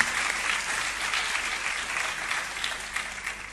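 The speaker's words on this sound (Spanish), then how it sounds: "un aplauso al compañero" Audience at a university teaching-research conference applauds steadily for the full stretch, a dense, even wash of many hands clapping with no voices standing out.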